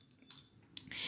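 A knife slices food into long strips on a cutting board, giving a few crisp, quick cuts and taps close by, with quiet pauses between them.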